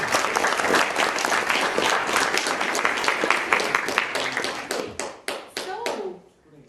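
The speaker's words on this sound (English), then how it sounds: "So, that was a good clap." Audience applause at a hackathon presentation session, a dense burst of many hands clapping that thins into a few scattered claps and fades out at the end.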